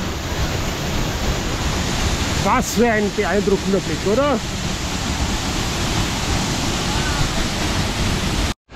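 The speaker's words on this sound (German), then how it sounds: "Die tosenden Wasser." Roaring waterfall water in the Black Forest makes a loud, steady broadband rush throughout, while a person speaks briefly over it near the middle.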